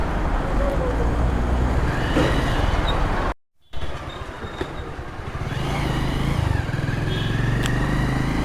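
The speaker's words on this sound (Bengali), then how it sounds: "বাইকে নামিয়ে নেই" A motorcycle riding along a road, with a steady engine drone and rushing wind and road noise heard close from the rider's position, and one brief dropout partway through.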